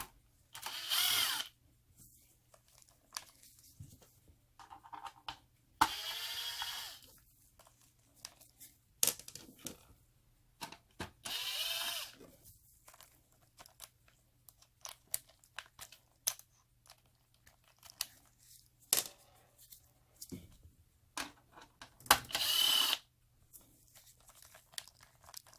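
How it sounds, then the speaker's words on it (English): Power driver fitted with a T20 Torx bit unscrews fasteners on a lithium solar battery, giving four separate short loud whirring bursts amid quiet gaps with faint handling clicks and rustles. "I'm using a T20 right there to unscrew"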